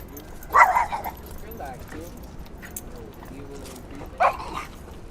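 Dogs being walked along a Bronx street on an evening let out two short excited yips or barks a few seconds apart, with a low street hum between them.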